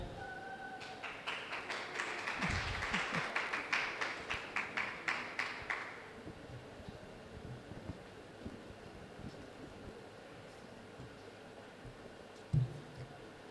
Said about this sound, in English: Round of applause again for her, please.